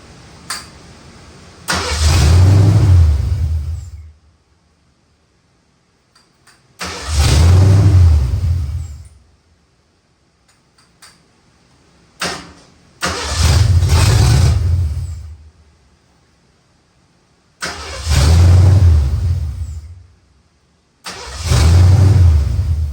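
A 1972 Mercury Comet engine cranking, catching and revving loudly in five separate bursts, each roaring up for a couple of seconds and then cutting out, with near silence between attempts.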